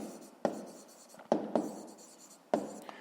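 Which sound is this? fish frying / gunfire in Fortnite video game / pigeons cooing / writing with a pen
writing with a pen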